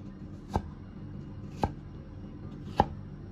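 A knife cuts cucumber into small cubes for a Northeastern Chinese sweet-and-sour pork dish, giving three crisp, evenly spaced chops on a board that sound close and distinct over a low background hum.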